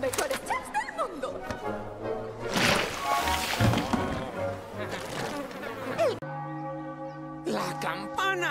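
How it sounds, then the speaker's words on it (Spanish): A school bell rings with sustained, resonant tones in the animated film Monsters University, clearly heard near the end after busier sounds and voices earlier on. "¡La campana!"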